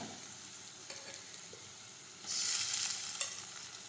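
Chopped onions and tomatoes fry in a pan for an eggplant bharta, with a steady low sizzle and soft stirring that jumps to a louder, brighter hiss about halfway through, followed by a single clink.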